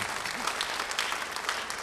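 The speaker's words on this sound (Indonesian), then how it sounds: "Beri tepuk tangan bagi dia." A church congregation applauds steadily during a sermon, a dense wash of clapping that carries on for the whole short stretch.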